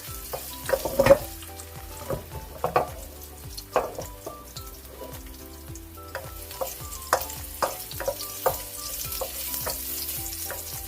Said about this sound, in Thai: เดี๋ยวเราร้อยกระเทียมสุกสักนิดหนึ่งนะคะแล้วก็ จะใส่ดอกกระหล่ำลงไปค่ะ